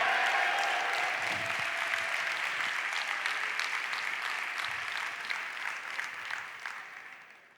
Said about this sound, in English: Can I get some claps and a yeah, please?